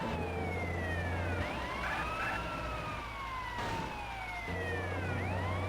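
A police car siren wails in GTA San Andreas, its rising and falling tone sweeping repeatedly over a low engine rumble for several seconds, fairly close and continuous.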